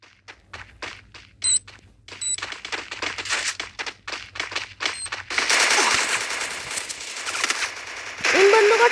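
Machine gun fire in a video game: rapid, evenly spaced bursts of shots crackle at the start, then give way to a denser, louder stretch of shooting and game effects, with voices talking over the noise.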